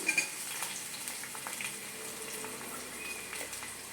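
Onion, green chili and garlic frying in a pan: faint, steady sizzling with soft scattered crackles and a few light clinks, running evenly without any talk.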